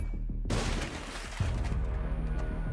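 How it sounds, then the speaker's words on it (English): Explosion from the TV series The Boys: a sudden loud blast after brief quiet, followed by crashing debris and a rumbling, crackling tail that lingers. "The explosion kills Translucent instantly."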